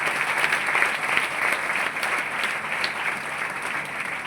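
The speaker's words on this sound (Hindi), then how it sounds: "मैं चाहूंगी मेरे सीनियर के लिए, ओम प्रकाश सर और मधु मैडम के लिए जोरदार ताली होनी चाहिए।" Loud, steady applause from an audience at a motivational speech event, honouring the seniors Om Prakash and Madhu, dense and continuous throughout with a faint crowd murmur and no clear talk.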